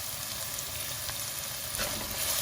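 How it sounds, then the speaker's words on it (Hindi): Onions fry in oil in a pan for a Goan pomfret fish curry, giving a dense, even, close sizzle with light stirring and no voices. "प्याज डाल के इसको हमने गोल्डन ब्राउन होने तक पका लेना है।"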